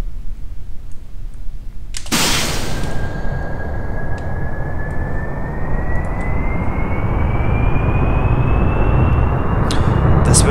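Spaceplane jet engines in Kerbal Space Program spool up abruptly with a loud burst, then settle into a steady, powerful roar with a slowly rising whine that continues throughout.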